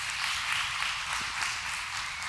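A church congregation applauds in a steady, dense wash of clapping that carries evenly without a break.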